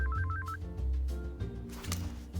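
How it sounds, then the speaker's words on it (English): A phone rings in the Cyanide & Happiness Freakpocalypse video game, a short warbling electronic trill at the start followed by softer game sounds and low music. "What's this? A distracting phone call?"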